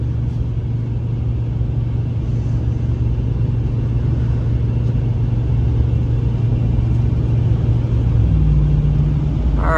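A Ram 1500 pickup truck drives on a snowy highway in a winter storm, its engine and tires producing a steady, loud low rumble with constant road noise throughout and no talking.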